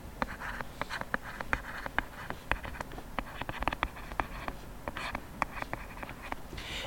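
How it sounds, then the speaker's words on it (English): Writing on a board during a physics lesson, a steady run of small taps and strokes in an irregular rhythm, close and clear with no talking over it. "Let's write that down."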